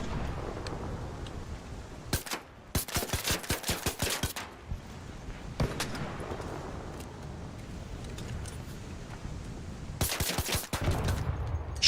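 Turret gunfire in the video game Arc Raiders: rapid bursts of automatic shots at about 2–4 seconds and again near 10–11 seconds, loud and close, with rumbling ambience in between.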